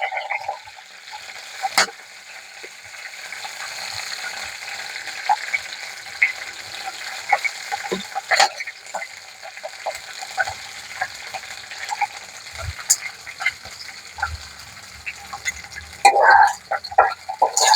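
About ten torn green chilies sizzle steadily in a ladleful of hot oil, a continuous close crackle with occasional sharp clinks of a spoon stirring the pan.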